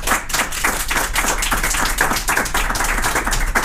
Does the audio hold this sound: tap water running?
no